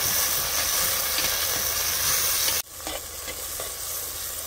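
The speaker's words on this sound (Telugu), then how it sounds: "మనం కట్ చేసి పెట్టుకున్న పచ్చిమిరపకాయలు, టమోటాలు కూడా వేసుకొని బాగా వేగనివ్వాలి" Onions, green chilies and tomatoes fry in a pan for a chicken and sorrel-leaf curry, giving a dense steady sizzle that drops suddenly partway through, then resumes slightly softer.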